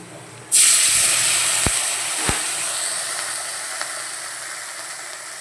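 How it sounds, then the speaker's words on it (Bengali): A sudden loud sizzle starts as onions hit hot oil in a pan, then a steady hiss of frying continues, with a couple of faint clicks. "পেঁয়াজ ভাজা।"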